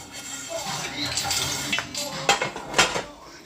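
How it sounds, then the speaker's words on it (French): Dishes, pots and cutlery are washed in a home kitchen, with steady running water, rattling metal and clinking utensils and a couple of sharper clanks, while a voice talks faintly in the background. "On va se faire une petite vaisselle en attendant que ça boue."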